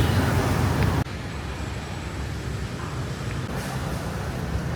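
Busy city street traffic in District 1 of Ho Chi Minh City, Vietnam: a dense, continuous rumble of passing motorbikes and cars close by, with steady engine noise and no clear voices.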